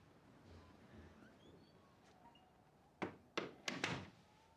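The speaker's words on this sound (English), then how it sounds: "Shut the door, Dad." A door is shut inside a home, producing a short cluster of solid thunks close by, three or four hits in under a second after a quiet stretch of room tone.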